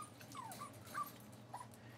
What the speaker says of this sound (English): And so these are the puppies. I want you guys to meet the puppies.